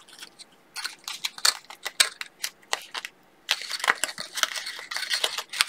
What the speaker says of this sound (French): Et le pli de droite, je vais le plier dans l'autre sens.